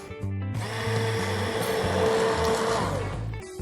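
A blender whirs loudly for about three seconds, pureeing a pumpkin and orange soup with ginger and zest, starting and stopping cleanly above a low kitchen hum.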